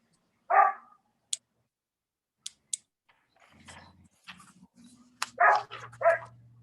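Dog barks remotely during an online planning commission meeting, a loud single bark followed by a few faint yips and clicks, then more barking and whimpering mixed with a low hum over the call.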